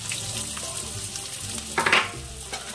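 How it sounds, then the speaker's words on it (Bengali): Sliced onions hit hot white oil in a kadai to fry for beresta, giving a close, continuous sizzle that swells into a brief louder hiss midway before settling back. "তেলটা খুব ভালো মতন গরম হয়ে গেলে কিছু পেঁয়াজ দিয়ে দিচ্ছি,"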